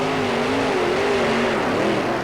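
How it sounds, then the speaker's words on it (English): A 1934 Chevy coupe hot rod pulling indoors at the Houston Astrodome, its engine holding a loud, steady high-revving roar with a slowly wavering pitch throughout the run. "The 34 Chevy Coupe lays down an outstanding run, and it will be our new fast time"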